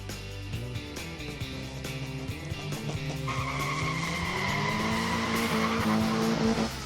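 Engine and tire-squeal racing sounds accompany a modified 1/64 diecast Chevelle muscle car run on a track, with a rising whine and squeal building through the second half, steady and fairly loud.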